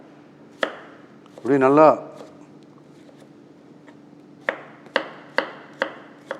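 A knife chops cucumber for a peanut cucumber salad: one crisp chop, a brief spoken phrase, then a quick run of five evenly spaced sharp chops close by.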